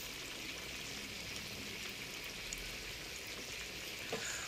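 Whole chickens (ingkung) deep-frying in about four liters of oil, a steady dense sizzle and bubbling crackle that holds level and close throughout, with no talking.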